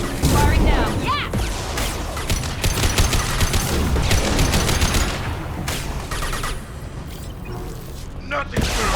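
Heavy sci-fi gunfire in Mass Effect 2, dense rapid volleys with booming impacts, loud and continuous, mixed with combat voices talking.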